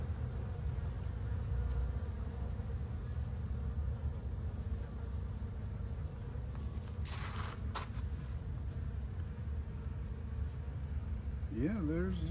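Honey bees buzz steadily inside an opened hive that holds two queens, a dense continuous drone with faint handling noises and a brief rustle near the end.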